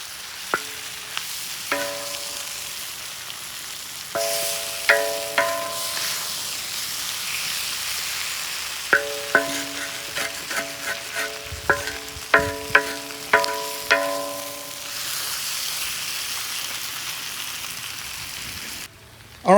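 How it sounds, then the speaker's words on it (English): Liver and onions frying in a discada hiss softly beneath repeated metallic scraping and ringing clanks as a utensil stirs them, the strokes coming in irregular bursts with pauses between. "Stir everything around a little bit."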